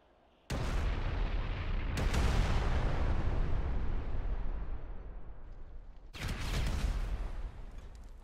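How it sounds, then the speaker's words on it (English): Three sticky bombs detonating on an armored car in GTA 5: a sharp blast followed by two more heavy, booming explosions, each with a long rumbling decay, loud and close with no talk. "when you put a few sticky bombs on it, or in this case, three, not just the two that I did for the Marauder"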